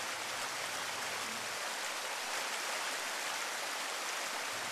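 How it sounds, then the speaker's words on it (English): Boulder Creek water flows over rocks in a dense, steady broadband rush, close and unbroken throughout, with no voices. "The water in the Boulder Creek has never flowed over the rocks beneath the surface the same way twice"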